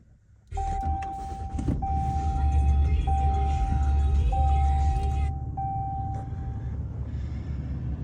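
A 2022 Ram 3500 Laramie pickup truck starts up: after a brief quiet, the engine catches with a sudden loud surge and settles into a steady, deep idle, with a thin electronic chime tone repeating over it.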